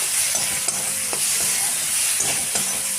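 Banana flower and prawns sautéing in a pan with salt, turmeric and sugar, a continuous close sizzle broken by the scrape and clatter of stirring.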